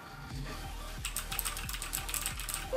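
Typing on a CK888 mechanical gaming keyboard, a run of quick, fairly close clacking keystrokes in an uneven rhythm, growing brighter and busier partway through.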